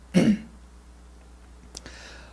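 A man clears his throat sharply once at close range, followed by a shorter, fainter cough a moment later in a quiet room.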